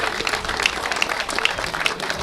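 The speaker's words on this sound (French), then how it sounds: "Les applaudissements du public de Cournant pour le sprinter d'Aix-en-Provence." A roadside crowd at a cycling race gives a stage winner sustained applause, a dense, steady patter of many hands clapping at moderate distance.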